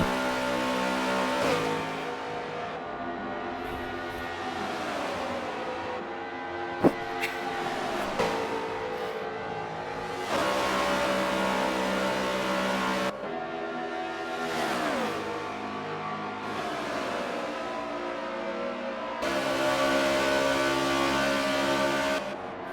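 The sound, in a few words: NASCAR stock cars racing past, from a racing video game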